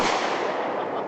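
Loud fireworks bursting nonstop at a 2012 display, a dense continuous crackle and boom that fills the whole short moment without any voices.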